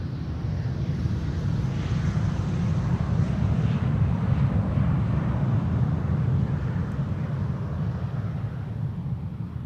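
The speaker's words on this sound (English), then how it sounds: "This is SAS, flight 1549, the Surst SE RST, Embraer 195 long range, arriving from Copenhagen." An SAS Embraer 195 airliner arriving from Copenhagen at Amsterdam Schiphol gives a steady, broad engine rumble that stays fairly even and continuous throughout, with no talk over it.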